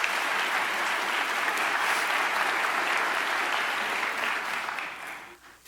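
A church congregation applauds two young readers after a service reading: sustained, dense clapping from a crowd that stays even, then thins out and fades near the end.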